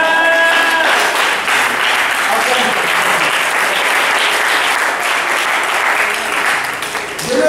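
Church congregation applauding and cheering during a French-language sermon, a loud, dense wash of clapping that fills the whole stretch, with a brief tonal sound at the start.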